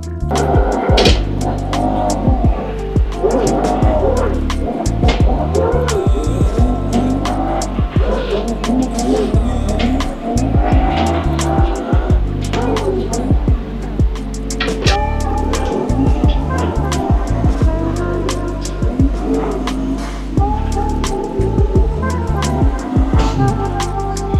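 Race car engine in the Assetto Corsa driving game, played on a Thrustmaster T300RS wheel with a Momo steering wheel on an NRG quick release hub, droning loud and steady throughout, with revving shifts and tire squeal.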